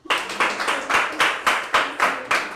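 Audience at an International Women's Day event claps in a steady, rhythmic unison beat, about three claps per second, loud and close with no talking over it.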